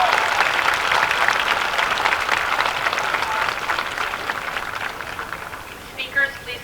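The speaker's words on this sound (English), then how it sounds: "Please give these outstanding educators a round of applause." Crowd at a high school commencement applauding outstanding educators, a broad sustained roar of clapping that gradually fades toward the end, with a voice emerging as it dies down.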